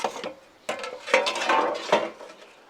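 Metal ash pan pulled out of a Kamado Joe ceramic grill during cleanout, a few close metallic clanks and scraping rattles in short bursts, no talking.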